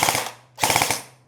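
An electric airsoft gun, a DMR-style build, fires two short full-auto bursts in quick succession, each a tight clattering string of shots with a brief pause between, close and loud.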